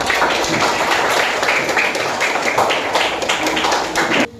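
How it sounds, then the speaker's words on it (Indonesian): Children clap together in an elementary school classroom during a guidance lesson, a dense, steady burst of hand claps lasting about four seconds, close and fairly loud, stopping abruptly at the end. "Oke, tepuk tangan."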